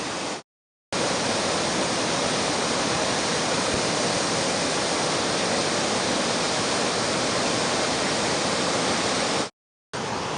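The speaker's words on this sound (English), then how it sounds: "There are waterfalls all the way along here." Waterfalls along Piute Creek pour in a loud, steady, broadband rush that fills the scene without pause, cutting out briefly near the start and again near the end.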